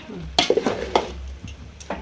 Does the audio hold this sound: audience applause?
no